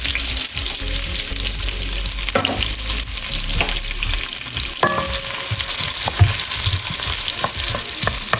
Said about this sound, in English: we're going to brown it in the little bit of oil that's left from our meat